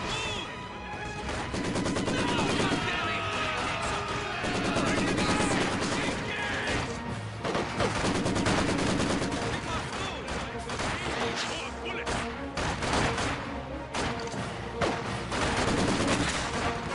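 Heavy machine gun fire in Company of Heroes 2, an HMG suppressing Panzer grenadiers, rattles in a dense, continuous battle din with explosions and crashes, loud and unbroken throughout.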